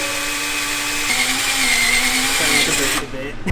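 A steady high-pitched motor whine from a power drill runs continuously, close and fairly loud, then cuts off abruptly near the end.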